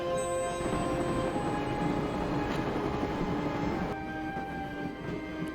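A train rumbles along in the video game Broken Sword, a steady dense mechanical rattle and drone with faint tonal hums throughout and no speech.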